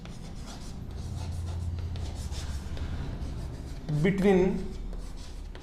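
Chalk or marker scratching on a board during a physics lecture on a parallel plate capacitor, a steady soft rubbing under continuous talk from the teacher.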